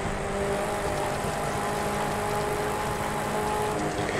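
Land Rover Defender engine from The Crew 2 racing game running off-road, a steady broadband drone with no gaps, holding a constant loud level throughout.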